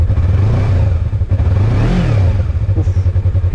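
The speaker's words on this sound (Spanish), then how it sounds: "Vamos a acelerarlo un poquito." Yamaha MT-03 twin-cylinder motorcycle, in neutral, revs once from a steady idle, the engine note rising to a peak and falling back, loud and close with no talking.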